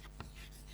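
Brief, faint scratches of writing on a board during a biology lesson, a couple of short strokes close by with no talk over them.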